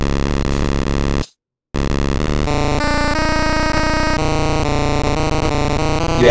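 Harsh, buzzy chiptune tones from LSDJ running on a Game Boy, loud and continuous, with a brief silent gap before a layered, glitchy sequence of repeating notes.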